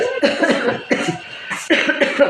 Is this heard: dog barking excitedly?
no